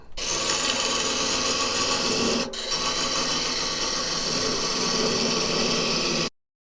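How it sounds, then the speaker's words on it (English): Wood lathe cutting a tenon on a turned ball box, a continuous loud scraping, rasping tool-on-wood sound with a brief dip midway, then an abrupt stop. "we're going to turn the tenon to that corner"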